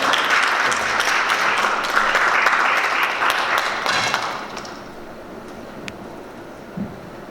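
Audience applause at a Korean study-group meeting greets the society's chairman, a dense wash of clapping that holds steady for several seconds, then thins and fades to quiet room tone with a few stray claps.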